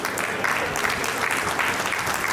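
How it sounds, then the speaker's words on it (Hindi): A crowd at a Rotary district governor installation ceremony applauds in a loud, dense, continuous burst of clapping that holds steady throughout. "एक बार तालियां आप जोरदार बजा दीजिए"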